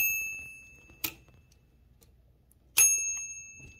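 The carriage return bell on a Torpedo 18B typewriter rings twice, each a bright metallic ding with a lingering tone, close and clear, separated by a quiet stretch of low mechanical noise.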